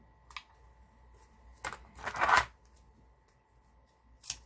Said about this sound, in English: now to go quicker, I'm going to use my double-sided tape